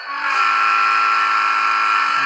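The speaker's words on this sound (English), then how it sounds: "That's a nice sounding horn." A sustained electronic model train horn blares loud and steady, a single unbroken buzzy tone that starts abruptly and holds without pause.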